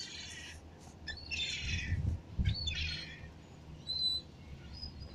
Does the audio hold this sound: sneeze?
no